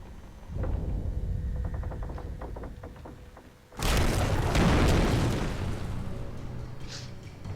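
A grenade blast in the video game Alan Wake: a quiet stretch with faint clicks gives way to a sudden loud, deep boom that rumbles and fades over a few seconds.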